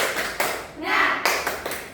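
Primary-school children in a Bahasa Indonesia class do a rhythmic spirit clap, a few sharp hand claps spaced apart and mixed with lively voices close by.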